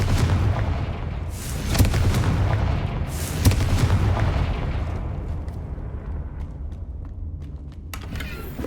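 Fire spell blasts from Hogwarts Legacy, a few loud booming bursts near the start and around three seconds, then a fading rumbling tail with no voices.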